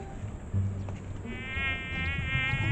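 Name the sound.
flies buzzing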